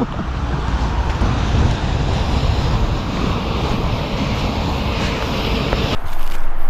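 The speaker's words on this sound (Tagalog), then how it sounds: "Ayan, lakas ng hangin ngayon." Strong gusting wind roars and buffets the microphone continuously, a loud broadband rush that briefly drops then surges again near the end.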